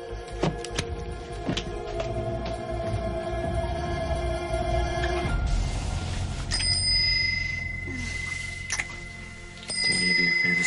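A bicycle-style bell rings in a soap-opera scene, its bright metallic tones sounding repeatedly and loudly up close, then ringing again in short bursts toward the end.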